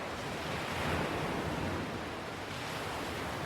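Ocean waves wash steadily onto a seaside shore in a broad, continuous roar of surf with a soft windy hiss, no voices over it.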